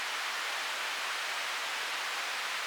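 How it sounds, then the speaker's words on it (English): White noise run through a bandpass filter whose cutoff sweeps, heard as a steady, loud hiss that stays broad and even across the band for the whole stretch, with no voice over it. "it's like a filter swiping across white noise. And this is exactly what a Whitenoise sweep is."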